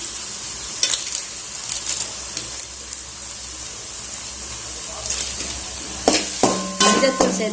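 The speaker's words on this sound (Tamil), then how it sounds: "மஞ்சத்தூள் சேர்த்து வதக்கிங்க" Tomatoes and turmeric sautéing in a pan, a soft steady sizzle under stirring, with spoon scrapes and clinks near the end.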